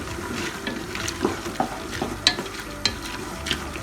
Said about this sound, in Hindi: अब हमने इसके अंदर मौजूद सारी चीज़ों को अच्छी तरह से भूनना है, तब तक जब तक इसका ऑयल अलहदा ना हो जाए।